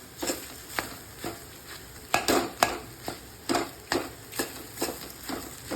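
Puli upma mixture roasting in a pan, stirred with a steady rhythm of about two scrapes per second, each stroke a close, dry scrape of spoon against metal over a faint low sizzle.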